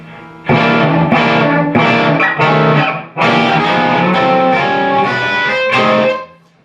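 A distorted electric guitar plays a riff, loud and alone. Repeated punchy note clusters come in two phrases with a brief gap between them.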